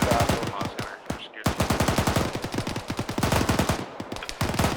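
Rapid automatic gunfire from a tank engagement in the Arma military game: dense, loud bursts of sharp shots in a steady rhythm, with a brief gap near the middle before the firing resumes just as heavily.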